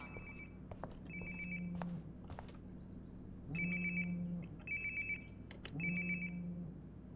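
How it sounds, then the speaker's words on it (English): A phone rings nearby in the video game Life Is Strange Before the Storm, with repeated electronic ringtone bursts over a low hum and scattered small clicks and thumps. "Sounds like my phone is definitely nearby."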